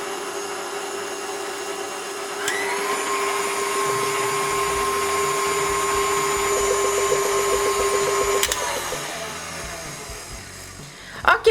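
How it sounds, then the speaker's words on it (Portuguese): A stand mixer fitted with a dough hook kneads cinnamon roll dough, a loud steady motor whine that holds for several seconds, then winds down and stops with a couple of knocks at the end, no talk. "Eu vou utilizar o batedor gancho da batedeira nessa receita"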